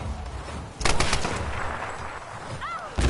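Gunfire from the Tomb Raider video game, a loud burst of shots with sharp repeated bangs near the start and another crack at the end, with a brief chirping tone in between.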